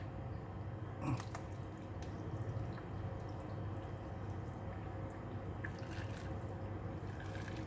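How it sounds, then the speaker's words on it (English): Warm gula melaka agar-agar jelly liquid is poured through a strainer over cendol in a tray, making a soft, continuous trickle with a few faint drips and splashes, quiet and close. "I'm going to pour it over the strainer"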